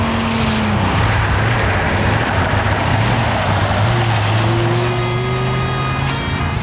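A Dodge Ram SRT10 pickup truck drives along, its engine droning loud and continuous with shifting pitch as it pulls through gears, while road and wind roar fill the background.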